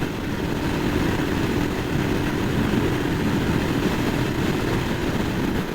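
Royal Enfield Himalayan motorcycle engine held flat out at about 5,000 RPM and 65 mph while climbing on a US highway, a steady loud drone with heavy wind rush and no break throughout.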